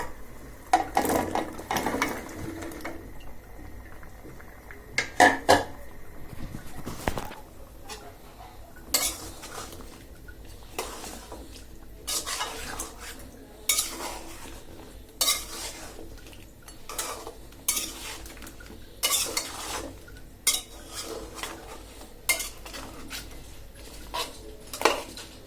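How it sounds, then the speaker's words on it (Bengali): Chopped winter vegetables being added to cooked spices in a pan and stirred, with repeated sharp metallic clanks and scrapes of a spoon against the pan, spaced irregularly over a quiet background. "এবার আমি কেটে রাখা সবজিগুলো দিয়ে দিচ্ছি।"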